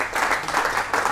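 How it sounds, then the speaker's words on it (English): Brief applause after a pub card bet, a short, fairly close burst of clapping lasting just over a second. "Give him a round of applause, though."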